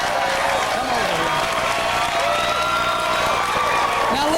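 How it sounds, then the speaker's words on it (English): Studio audience at a 1997 TV game show breaking into loud, close applause with some cheering, dense clapping throughout while a host talks over it. "Give them a round of applause."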